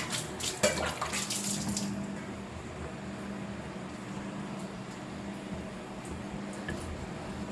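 A plate filled with water is set down over a pan of cauliflower cooking on the stove, giving a brief metallic clatter at the start, then a quiet, steady sizzle underneath.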